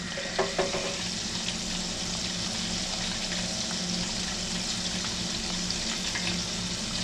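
Chicken breast strips fry in a cast iron pot with a steady, dense crackling sizzle that stays loud and even throughout, with no talking.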